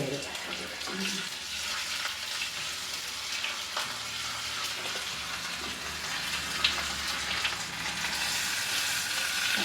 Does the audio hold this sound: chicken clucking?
no